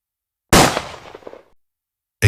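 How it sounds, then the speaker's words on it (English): A single sharp gunshot sound effect, a loud close crack that decays into a brief reverberant tail over about a second, followed by silence. "A gunshot rang out."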